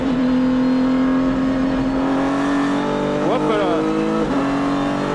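A Renault RS01 race car revs and accelerates on a demanding track, its engine note climbing and sweeping through several gear changes, loud and close, while someone speaks briefly over it.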